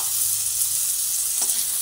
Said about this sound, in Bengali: টমেটো দিয়ে দিলাম, ভালোভাবে এরপরে নাড়াচাড়া করে করে ভেজে নিচ্ছি